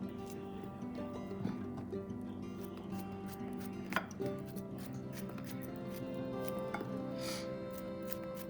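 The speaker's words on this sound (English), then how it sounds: "And slice the bananas." A knife slices bananas for banana pudding, the cuts coming as soft, faint chops spread over a quiet steady background hum.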